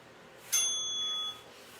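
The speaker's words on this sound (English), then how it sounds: "All the way to the bell." A single bright interval bell during a HIIT workout, one clear ding ringing out for under a second over faint room noise.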